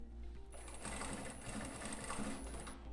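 A sewing machine stitches tweed fabric to its lining, starting after a short lead-in and then running in one steady, close, rapid whir with no talk over it.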